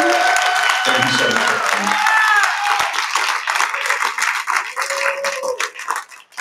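Crowd applause fills a realty rally hall as a steady wash of clapping, with someone speaking over it briefly before it tapers off.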